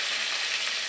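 Paneer and cauliflower frying in hot oil, a loud, dense, unbroken sizzle close by with no talk.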